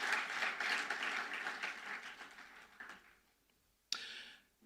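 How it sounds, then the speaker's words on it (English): Audience applause at a distinguished alumni lecture, a moderate burst of clapping that fades to quiet by the middle, followed by one sharp knock and a brief swell of clapping. "Shall we appreciate them with a round of applause?"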